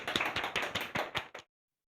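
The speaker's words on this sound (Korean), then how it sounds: "박수로 맞아주세요." A small group of parents gives a short burst of applause welcoming a teacher at a school information session, about seven distinct claps in a quick rhythm before it abruptly stops.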